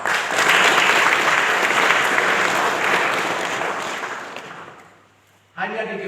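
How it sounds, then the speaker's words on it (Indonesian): Congregation applauding warmly at a church thanksgiving service, several seconds of dense clapping that fades out before a voice speaks over the sound system. "Tepuk tangan untuk perempuan."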